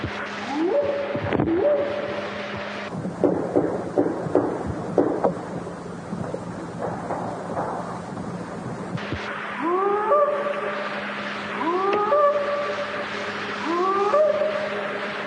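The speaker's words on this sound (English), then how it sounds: "here's the whoop sound for, what a Bigfoot sounds like, when they're whooping" An alleged Bigfoot whooping call: repeated rising, hollow whoops echo over a low rumbling background, becoming clearer and more regular in the later part.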